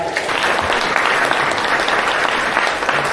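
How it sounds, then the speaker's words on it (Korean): Wedding guests at a Korean wedding ceremony burst into loud, dense applause, a continuous roar of many hands clapping close by for about three seconds. "모두 큰 박수로 맞이해 주시길 바랍니다."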